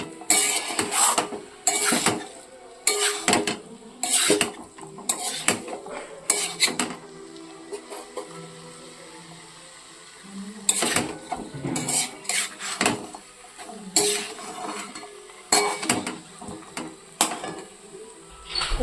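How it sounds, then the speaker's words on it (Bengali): Egg curry with spices being stirred in a pan for Bengali dimer dalna, repeated loud metal spoon clanks and scrapes against the pan in irregular bursts, with a short quieter pause partway through. "হালকা ডিমের সঙ্গে তরকারি আর মশলাগুলোকে ভালো করে মিলিয়ে নেব।"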